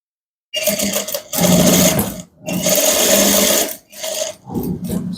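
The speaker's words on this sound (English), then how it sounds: "Fold and top stitch to the very end." A sewing machine runs in three long bursts and a shorter fourth, top stitching a welt pocket on chinos, its motor whirring close and loud with brief pauses between runs.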